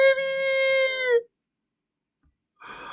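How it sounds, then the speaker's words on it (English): A cat in the video game Genshin Impact gives one drawn-out, tonal meow, then falls silent, and a short second meow begins at the very end. "There's a kitty cat!"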